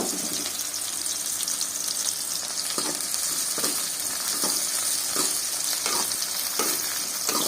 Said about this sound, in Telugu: అన్నీ ఎర్రగా అయ్యేంత వరకు ఇట్లనే వేయించుకుంటూ కలబెట్టుకుంటూ ఉండాలి, మాడకూడదు